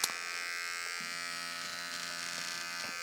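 An electric stitch remover runs with a steady, high buzz as it cuts out a line of stitching, its motor note shifting lower about a second in while it works along the seam up close.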